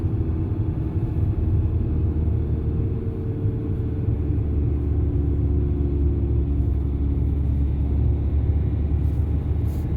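A car travels a highway toward Eindhoven in the Netherlands in winter, with a steady low road rumble and engine drone filling the cabin throughout, heard alone without speech.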